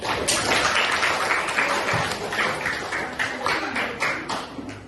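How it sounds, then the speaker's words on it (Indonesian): Classroom applause for a student during a practice teaching lesson, a short burst of scattered clapping from a small group, close and uneven, fading toward the end. "Tepuk tangan untuk Rizky."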